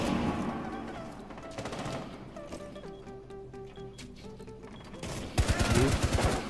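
Gunfire from a shooter in the video game Rainbow Six Siege: rapid bursts of automatic shots crackle at the start, quieter tones follow, then a loud, dense volley erupts near the end.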